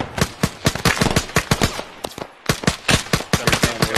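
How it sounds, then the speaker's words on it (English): Rapid bursts of video-game gunfire crack from down a hill, dense volleys of sharp shots with a short lull midway, loud and close-sounding with no talk over them. "Shots coming from down the hill here."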